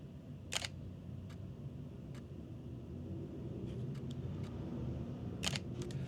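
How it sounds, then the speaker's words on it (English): Two sharp shutter clicks from a Fujifilm X-T5 camera, one near the start and one near the end, close and crisp over a steady low rumble, with a few fainter ticks between them. "So the X-T5 has a great shutter sound."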